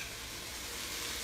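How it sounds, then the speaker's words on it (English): Cold, day-old cooked brown rice tipped into a hot pan, giving a steady, close, even sizzle of frying with no voices. "Next ingredient is the rice, so that's gonna go in now."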